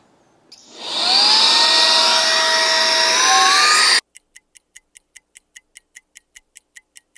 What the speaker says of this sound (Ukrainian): підключаємо наш шланг та й починаємо качати